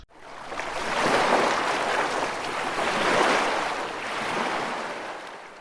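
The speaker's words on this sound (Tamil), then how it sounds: "அமைதியை தரக்கூடிய கடல் அலையோட சத்தம்" Sea waves wash ashore in a continuous broad rushing surge that swells and eases in slow, overlapping pulses, close and fairly loud, with no voices.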